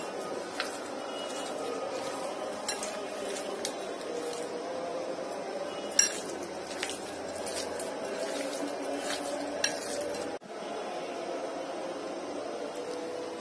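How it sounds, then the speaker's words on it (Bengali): Chicken wings get mixed with salt, black pepper and spices in a bowl, giving soft, close wet squishing and sticky smacks in an irregular rhythm, with a few sharper clicks and no talking. "এখন সবকিছু ভালো করে একটু মিশিয়ে নেব।"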